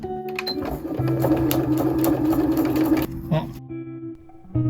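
A sewing machine stitches fabric for a camper van's pop-up roof while skipping stitches, giving a loud, steady mechanical whirr that stops near the end, with a voice speaking over it.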